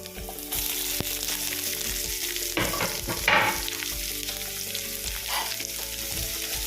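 Two medium onions fry briskly in a pan for paneer masala, giving a loud, dense sizzle throughout, broken by a few scraping stirs, near and with no speech.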